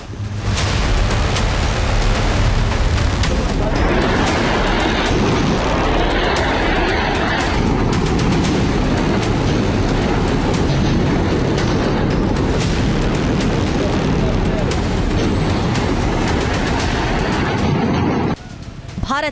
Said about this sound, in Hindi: बहावलपुर से मुजफ्फराबाद तक भारत की मिसाइलों से पाकिस्तान दहल उठा